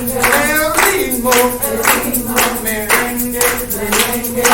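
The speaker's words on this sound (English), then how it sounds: "Clap your hands, baby." Audience clapping hands in steady rhythmic bursts along to a loud merengue song, the claps keeping time over singing voices and music, with a sustained tonal line running through.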